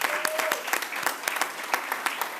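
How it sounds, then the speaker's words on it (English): Applause for pledgers at a partnership summit, a crowd clapping steadily with sharp, fairly close, rapid claps throughout. "Can you please give all of the people that pledged a round of applause?"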